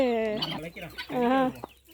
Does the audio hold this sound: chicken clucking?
yes